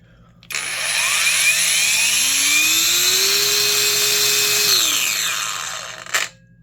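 A Kimo 20V brushless 4-1/2 inch angle grinder spinning up through a very long soft start, its high whine climbing slowly for several seconds, holding at full speed, then winding down near the end.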